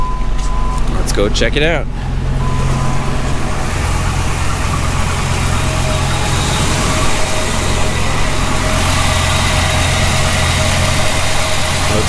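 A Dodge Ram SRT-10 truck engine cranks and catches after a short starter whir, then settles into a loud, steady, rumbling idle that runs to the end while someone talks over it.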